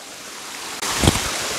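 The Darimalli waterfall runs with a low winter flow, heard as a continuous rush of falling water with a brief gusty burst of wind over the microphone partway through.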